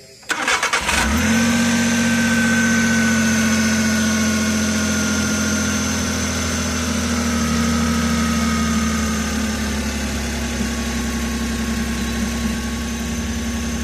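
A Suzuki DA64V with a K6A engine cranks briefly and catches, then settles into a steady, loud idle that holds for the rest of the span with no talk over it.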